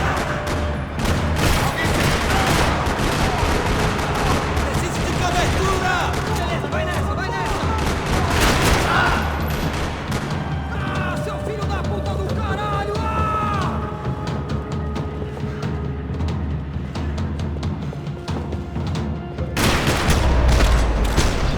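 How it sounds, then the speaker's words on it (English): Sustained gunfire rattles through a parking lot in the video game Max Payne 3, dense bursts of shots running steadily over roughly twenty seconds with voices underneath and a heavy boom near the end. "Another parking lot rattling with gunfire."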